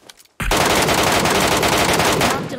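A sudden, close burst of sustained automatic fire from an MK automatic rifle in PUBG Mobile erupts after a brief lull and roars continuously at full loudness to the end.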